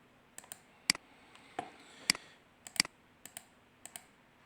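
Computer mouse buttons clicked while working in a graphical interface: a scattered series of sharp, quiet clicks, some in quick pairs, close up over a faint background hiss with no talking.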